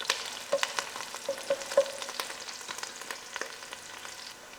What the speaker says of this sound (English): And then I put in my garlic and my green chilies